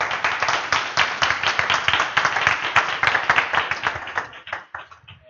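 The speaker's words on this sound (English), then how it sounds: "let's give our speaker another round of applause" An audience claps for a speaker in a steady, dense burst of applause, close and fairly loud, tapering off to a few last claps near the end.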